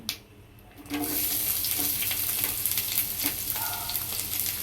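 Onions and pulao whole spices dropped into hot oil, a sudden loud sizzle that then holds as a steady close frying hiss with small crackles.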